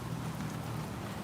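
Heavy rain falls steadily during a dark downpour in Cibubur, a dense unbroken hiss with no gaps.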